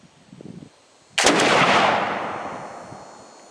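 A flintlock hunting musket, a Model 1777 French design, fires a heavy magnum-style load: one loud, sharp blast after brief quiet, followed by a long rumbling decay that rings on for about two seconds.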